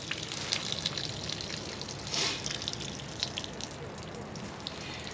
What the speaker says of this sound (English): See that draining out now? That's what I want to see. I want to see all this water coming out.